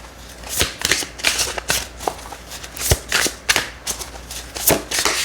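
Tarot-style guidance cards shuffled by hand in a run of brisk riffling bursts and soft slaps, close and fairly loud, with brief pauses between shuffles and no talking.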